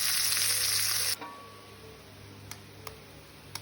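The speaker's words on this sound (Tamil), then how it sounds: "மிளகாய் கொஞ்சம் வதங்க கருவேப்பிலையை போட்டு வதக்குவோம்." Green chillies and curry leaves sautéing in a hot pan, with a loud sizzle for the first second that drops sharply to a quieter simmer, followed by a few faint ticks of a utensil.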